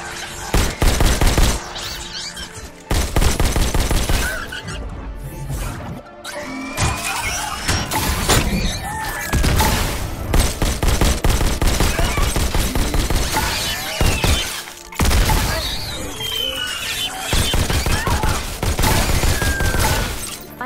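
Rapid gunfire in the VR shooter Robo Recall, sustained volleys broken by brief pauses, with shattering and metallic impacts mixed in, loud and continuous for the whole stretch without voices.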